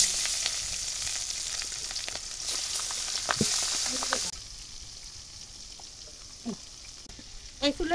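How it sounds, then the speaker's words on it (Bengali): Fish sizzles as it fries in a pan over a village stove, a steady crackling hiss with occasional clinks of utensils, fairly close and moderate in level, quieting partway through. "আগে মাছ ভাজা বসাই দেবো, মাছ দিয়ে দিলাম।"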